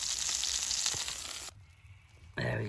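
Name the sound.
food frying and sizzling in a hot pan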